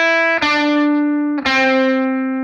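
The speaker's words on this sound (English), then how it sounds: "You can really hear the ghost notes." Two distorted electric guitar ghost notes through Universal Audio Paradise Guitar Studio, each struck sharply and left to ring out with a long, sustained tone.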